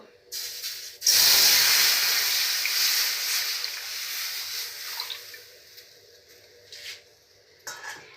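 A bowl of milk hits a hot wok with a sudden loud hiss and steamy sizzle that slowly dies down, followed by a few faint clinks of a utensil against the pan.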